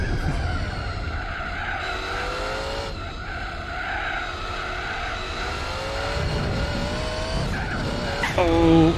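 A car in the Gran Turismo 4 racing game skids with long, wavering tire squeal over a droning race engine, then slams into a barrier with a loud impact near the end, while someone talks over it.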